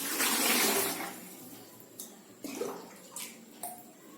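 Water pours from a small tumbler into a plastic pot, a rushing splash at the start that fades, followed by a few brief, quieter trickles and splashes.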